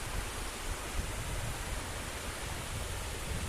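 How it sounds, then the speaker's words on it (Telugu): The Tadigada waterfall in a low dry-season flow gives a steady, even wash of falling water, soft and continuous with no breaks or voices. "ఇదేనండి తాడిగడ వాటర్ ఫాల్స్."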